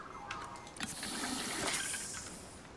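Water in the video game Icarus: a steady gushing, pouring rush of liquid, heard at moderate level with no talk over it.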